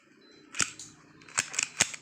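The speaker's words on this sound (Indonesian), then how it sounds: "Jadi pada saat kita keluarkan magazin, nah kita harus kokang kosong dulu." Taurus PT92 KWC airgun pistol being cocked and dry-fired with the magazine out: one sharp metallic clack, then a quick group of three crisp snaps about a second later, close and fairly loud with no voices.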